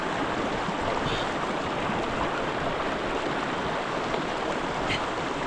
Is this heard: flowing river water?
yes